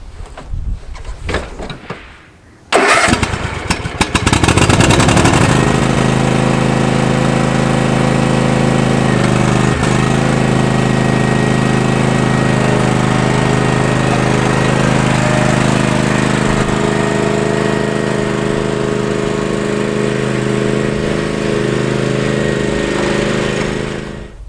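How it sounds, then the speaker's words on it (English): A lawn mower sputters, catches and starts, then runs in a loud, steady drone close by as it mows grass. "So, Cassie, the queen of the lawnmower, here she goes."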